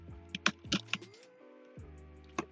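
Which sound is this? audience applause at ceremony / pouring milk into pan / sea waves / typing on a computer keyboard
typing on a computer keyboard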